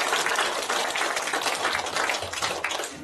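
Audience applause for a lecturer after a talk on European heraldry in a third-floor lecture hall, a dense steady wash of many hands clapping close and loud for about three seconds, with no talk over it.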